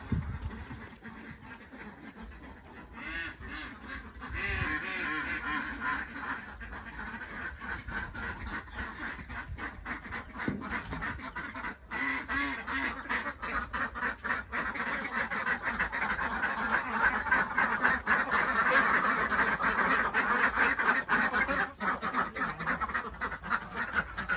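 A flock of egg-laying ducks on a farm quacks continuously and noisily, many overlapping calls close by, growing louder and denser toward the end.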